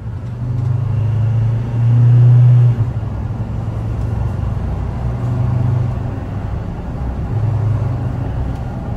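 A Troller TX4 jeep with a five-cylinder engine rumbles low and steady while driving, a loud interior drone that swells briefly once, with no talk over it.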